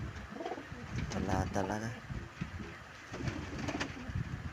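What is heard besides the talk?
pigeons cooing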